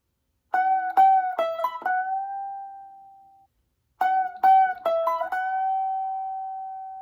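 An acoustic guitar plays a melodic lick from a song with plucked notes, string bends and a final sustained ringing note, played twice with a short pause between the two phrases.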